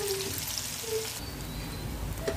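Chopped onions sizzling steadily in hot oil until golden brown, a soft continuous frying hiss close by with faint stirring clinks and no speech.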